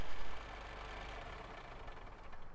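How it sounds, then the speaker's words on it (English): A truck engine in Euro Truck Simulator 2 shuts off, its broad rumble dropping abruptly after a brief loud start and settling into a steady lower hum. "I'm not sure about that engine shutting off sound."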